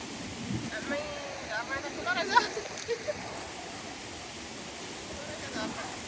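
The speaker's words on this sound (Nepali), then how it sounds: "हेर्ने यो पानी" Steady rushing water of a stream at a rural picnic spot, a broad constant wash heard nearby throughout, with a person speaking over it briefly.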